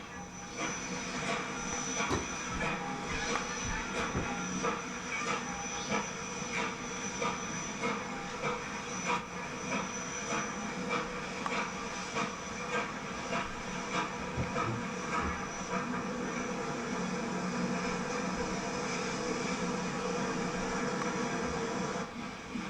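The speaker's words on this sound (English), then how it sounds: "the train headed west on the line to West Cressona" A long, steady rumble of a passing coal freight train fills the scene, with continuous clattering wheels and droning engine noise at a constant level.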